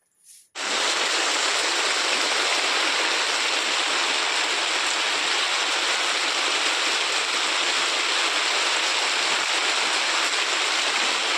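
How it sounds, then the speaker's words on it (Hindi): Heavy rain pours steadily at home as a dense, loud, continuous hiss. It begins abruptly after a brief moment of quiet and then keeps up without any talking. "कितनी ज़ोरदार बारिश हो रही थी"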